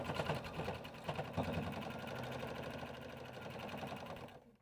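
A sewing machine stitches the sides of a fabric bag onto its front panel, running steadily and close for several seconds, then stopping abruptly near the end.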